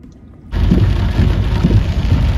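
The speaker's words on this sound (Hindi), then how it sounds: "Enjoy beautiful rain of Amritsar." Heavy monsoon rain pours down in Amritsar, starting suddenly and then holding as a steady, loud, dense wash close by.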